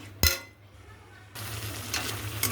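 Vegetarian paneer curry is stir-fried in a pan. A sharp utensil knock comes first, then a quiet pause, then a steady low sizzle with faint stirring.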